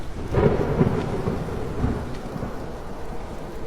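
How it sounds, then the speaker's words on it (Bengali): Heavy rain pours down near a graveyard at night with thunder rumbling, a steady dense hiss of rainfall under low rolling thunder, fairly close and continuous, no voices. "সেই কবরস্থানের কাছে বেশ জোরে বৃষ্টি শুরু হলো"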